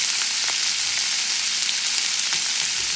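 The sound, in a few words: shrimp frying in a pan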